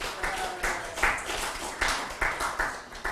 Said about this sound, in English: A round of applause there.